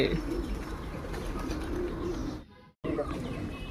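Pigeons and other birds call and coo among steady outdoor ambience at Allalasandra Lake Park in Yelahanka, Bangalore, where people scatter rice and grain. The sound cuts out briefly, then resumes.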